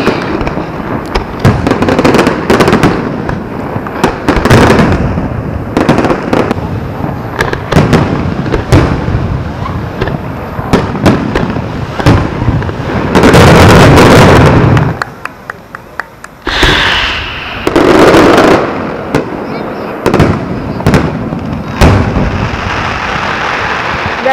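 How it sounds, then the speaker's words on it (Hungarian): Big fireworks festival in Tarragona, Spain: loud, dense barrages of explosions and crackling bursts, some fired in multi-stage volleys, with a brief lull midway before more booming shells follow. "Pár perc és kezdődik a tűzijáték fesztivál."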